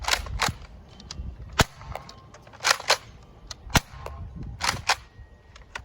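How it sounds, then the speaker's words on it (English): A Nerf Rival Curveshot Sideswipe blaster fires orange Dart Zone darts in a quick series of sharp popping shots, about seven cracks in an irregular rhythm, close and loud with mechanical clatter between them, no talking. "now I'm going to fire some with some orange dart zone rounds"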